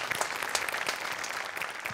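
An audience claps for three performers on a Marathi comedy show stage, a dense, steady patter of applause from a crowd, moderately loud and continuous throughout.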